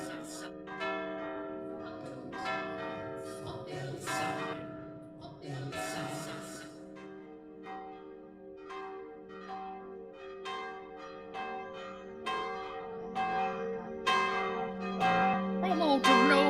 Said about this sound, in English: a bell sounded.